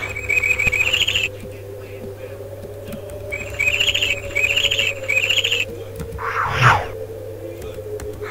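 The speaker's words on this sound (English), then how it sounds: "Oh, look at that owl." An owl in the LEGO Harry Potter video game gives short, bright repeated hoot calls in two clusters over a steady low game-music hum, with a brief whoosh near the end.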